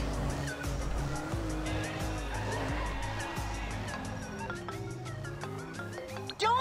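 A car in GTA 5 swerves erratically as its engine drones continuously and tires squeal repeatedly in sharp bursts, with a sudden loud hit at the end.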